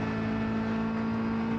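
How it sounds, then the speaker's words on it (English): Corvette GT3 Z06R race car lapping Sepang circuit, its engine holding a steady, loud tonal drone at constant revs, close and continuous through the short stretch with no talking. "here's my lap of Sepang in the Corvette GT3 Z06R"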